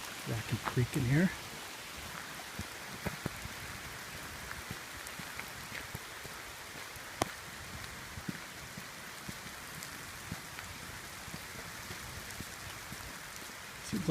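Rain patters steadily on a creekside forest trail along Seven Bridges Trail in South Milwaukee, a soft continuous hiss with scattered drops, while a voice speaks briefly near the start.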